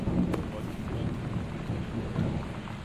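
Thunderstorm with rain in Gone Home, continuous heavy rainfall with rolling low thunder rumbles rising and falling, a sharp crack near the start, no talk over it.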